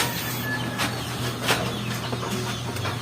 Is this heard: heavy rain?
no